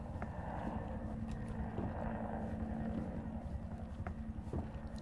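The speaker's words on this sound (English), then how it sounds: "Sounds like a helicopter." Helicopter approaching in the Resident Evil 2 video game, a low steady rotor drone with a faint rhythmic chop holding under wind-like rumble, fairly constant in loudness throughout.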